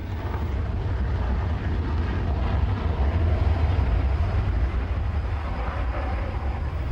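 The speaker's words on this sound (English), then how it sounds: "The GR4 is the RAF's frontline strike attack aircraft." RAF Tornado GR4 strike jet displaying at the Farnborough Airshow 2002, a deep continuous jet roar rumbling steadily throughout, loud and sustained without pause.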